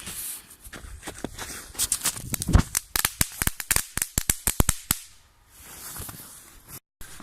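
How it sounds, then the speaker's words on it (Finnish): Small pyro-bomb firecrackers pop and crack in a rapid irregular string of sharp bangs, close and loud, then fade to quiet. "Tosiaan tänään me testattais pyropommeja, elikkä ne on tän näköisiä pikkusia pommeja."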